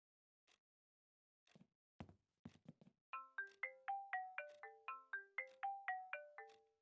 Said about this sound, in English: My cell phone.